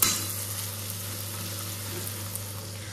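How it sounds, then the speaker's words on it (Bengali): Green beans fry in a pan at home, giving a steady low sizzle with faint stirring scrapes over a constant background hum. The sound stays close and even, with no voices. "বিনস ভাজা হচ্ছে।"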